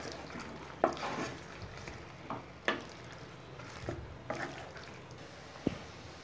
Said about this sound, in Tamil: சேர்த்துட்டு இந்த காளானில் இந்த மசாலாலாம், இந்த சாஸெல்லாம் நல்லா கோட் ஆகிற மாதிரி கலந்துருங்க